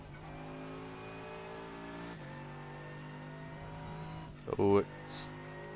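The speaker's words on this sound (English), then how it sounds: "turn down the motor sound, because it's really freaking loud" A GT3 race car engine in the iRacing sim game hums as a steady, faint, high-pitched drone that shifts pitch once, followed by a brief louder burst near the end.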